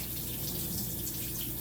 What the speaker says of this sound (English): Now I will rinse my hands under the water.